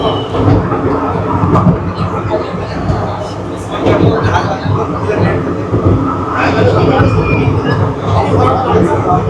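A small train climbs a steep hill track in Malaysia, its carriages rumbling and clattering steadily along the rails from close by, while people talk over the continuous running noise.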